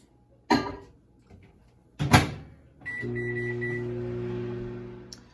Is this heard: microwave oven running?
yes